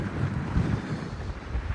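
Strong wind gusts across a high mountain at 17,000 feet on Denali, roaring steadily and buffeting the microphone with a dense, low rumble and no voices.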